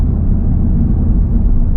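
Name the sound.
Acura Integra Type S car in traffic, low on fuel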